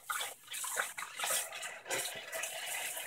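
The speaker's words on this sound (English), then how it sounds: "You really want to gently squeeze the water out of your diapers as opposed to wringing it." Water trickles and splashes as wool cloth diapers are gently squeezed out by hand, a close, soft series of liquid gushes and drips in uneven bursts.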